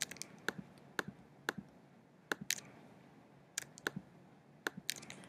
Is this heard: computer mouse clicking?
yes